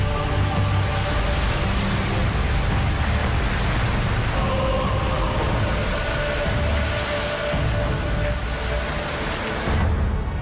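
Heavy monsoon rain in India pouring down in a dense, loud, continuous hiss and drumming on surfaces, steady throughout and close by, with no voices.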